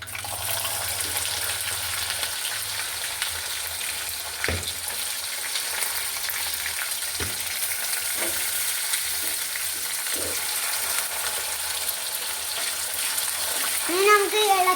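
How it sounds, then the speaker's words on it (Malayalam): Garlic sizzling and frying in hot oil for a fish pickle, a steady broadband hiss with occasional stirring knocks, close and continuous throughout. "ഇനി നമുക്ക് വെളുത്തുള്ളി ഇടാം."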